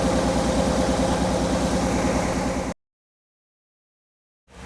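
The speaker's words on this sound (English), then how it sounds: "you can hear the motor's missing a little bit, shaking" A 1964 Impala wagon engine idles rough and loud up close, a low uneven throb with a faint misfiring stumble, then cuts off abruptly into silence before briefly starting to return.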